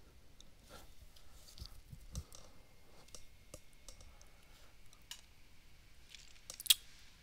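A computer mouse clicks while activating a WordPress plugin, producing faint, scattered clicks at irregular intervals in an otherwise quiet room.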